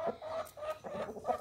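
Chickens in a garden cluck softly nearby, a quick series of short, throaty clucks in an uneven rhythm, with no talking.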